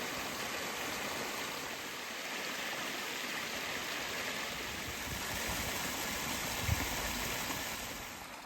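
A moorland brook beside the Doctor's Gate path rushes and babbles in a steady, dense wash of flowing water, close and continuous throughout with no voices.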